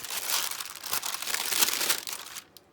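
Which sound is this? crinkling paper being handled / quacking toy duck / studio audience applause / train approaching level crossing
crinkling paper being handled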